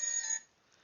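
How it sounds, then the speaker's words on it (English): A phone alarm or ringtone sounds close and clear as a steady tonal burst, then cuts off abruptly after under half a second, leaving near silence. "my phone is just going off."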